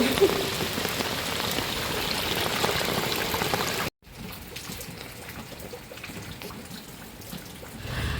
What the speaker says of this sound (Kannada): ಅಷ್ಟು ಮಳೆ ಬರ್ತಾ ಇದೆ ನಮ್ಮ ಮಲೆನಾಡು ಮಳೆ ಅಂದರೆ ಇದೆ